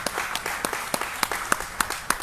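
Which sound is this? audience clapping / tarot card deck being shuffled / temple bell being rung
audience clapping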